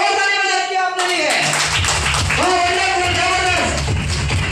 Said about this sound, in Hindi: अब दूसरा उठा के एक बार और ताली बजा दिया आपने लिए।